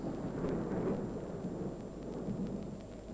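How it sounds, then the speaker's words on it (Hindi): Steady rain falls while low thunder rumbles continuously, the downpour easing slightly toward the end. No one speaks. "वर्षा थम रही है।"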